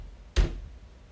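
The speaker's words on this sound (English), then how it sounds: "I was hearing that knocking again" A single dull thump sounds inside a quiet house at night, one short heavy knock against a faint background hush.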